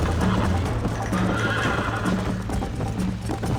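A horse in Red Dead Redemption neighs loudly and gallops with steady rhythmic hoofbeats, close and continuous under game ambience.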